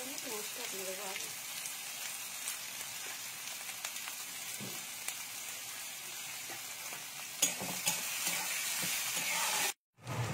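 Onions sizzle in hot oil in a pan while poha is cooked, a steady crackling hiss with occasional stirring scrapes and a sharp clatter near the end, followed by a brief dropout.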